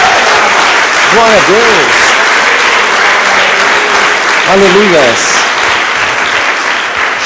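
A church congregation applauds in a steady, full wash of clapping while voices call out praise over it throughout.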